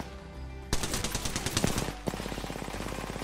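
Rapid automatic gunfire bursts in the Apex Legends video game, loud and close, two quick strings of shots in succession.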